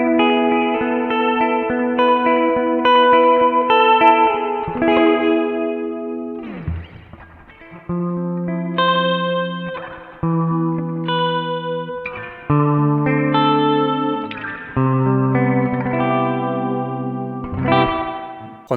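Electric guitar plays chords and melodic lines through a Strymon BlueSky reverb pedal set to spring mode with modulation, each note trailing a wobbly, boingy spring-reverb tail, with one brief scraping strum in the middle, played alone without talk.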